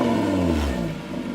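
A car fitted with a G35 downpipe and straight-piped exhaust revs up and then drops off, a loud raspy engine note falling in pitch over about a second.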